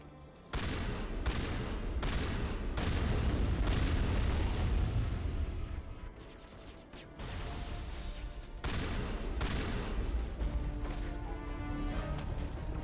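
Shotgun fire in the Mass Effect video game, heavy booming blasts in quick bursts with crashing impacts, loud and dense for most of the stretch, easing briefly in the middle before the firing resumes.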